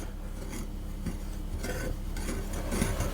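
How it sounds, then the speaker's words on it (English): Dry soda bread ingredients are stirred round in a large mixing bowl, giving a steady soft scraping and rubbing with faint clinks of a utensil against the bowl, close and continuous with no talk. "I'm just going to give that a mix round."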